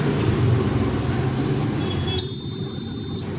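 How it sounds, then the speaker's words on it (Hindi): A fingerprint sensor door lock rejects an invalid finger with a loud, steady electronic buzzer tone lasting about a second, cutting in over a low background hum. "ये फिंगर मेरी इससे अटैच नहीं है तो इसलिए इनवैलिड फिंगर यानी कि बजर की आवाज़ आ रही है।"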